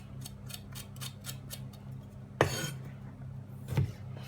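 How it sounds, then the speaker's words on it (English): A knife slices lengthways through about three tomatoes, giving one sharp, close cut against the board and a softer second cut a moment later, over quiet background clicks and no talk. "Cut them lengthways as well."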